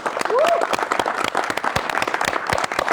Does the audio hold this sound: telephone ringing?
no